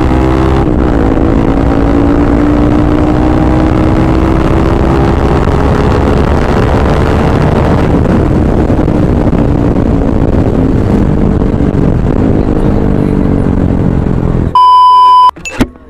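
A TVS Apache RS200 motorcycle fitted with a new aftermarket exhaust drones steadily while riding, engine tone rising and falling through gear changes, loud and continuous before cutting off near the end with a few short beeps.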